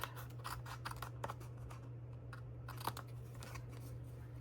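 Scissors trimming the rough edges off paper card give a series of crisp snips and crunchy cuts, close up, over a low steady background hum.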